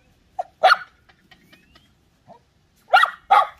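A small dog yaps in sharp close barks: a pair near the start, a faint one midway, then two more at the end, with quiet gaps and faint rustling between.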